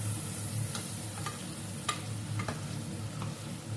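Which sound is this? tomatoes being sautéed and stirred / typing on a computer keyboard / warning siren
tomatoes being sautéed and stirred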